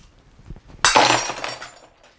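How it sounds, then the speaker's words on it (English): A wine glass smashed with a hammer gives one sudden, loud, bright shattering burst that fades over about a second, after a few faint taps. "as promised, I have the wine glass and the hammer."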